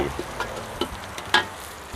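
Pounded spice paste goes into hot pork oil, and a soft frying sizzle runs under a few brief stirring clinks from a utensil against the pan, close by and with no voices.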